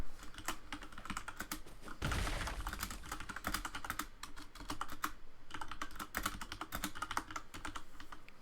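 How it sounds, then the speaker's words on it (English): Rapid clicking of keys on a computer keyboard, steady and fairly close, with short pauses between bursts and no talking. "Somebody's typing."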